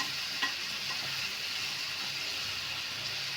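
Prawns are stirred and fried in a pan: a constant, soft sizzle with a few brief clinks and scrapes of stirring near the start, and no talking.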